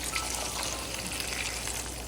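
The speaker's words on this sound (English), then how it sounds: "I'm going to add the water." Water pours steadily into a pot of chili crab sauce, giving a soft, continuous gushing hiss with faint sizzle-like crackle at a low level for about two seconds.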